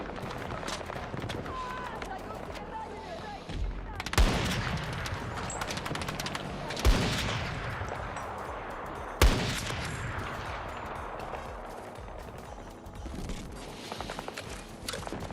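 Gunfire in the Battlefield 6 video game: three sharp, loud shots a few seconds apart ring out over a busy, continuous background of battle noise, with no clear talk over it.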